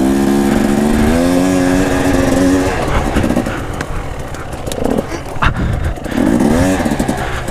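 An enduro motorcycle climbs and descends a slope, its engine loud and close, holding a steady high drone before dropping and revving up again as it changes direction.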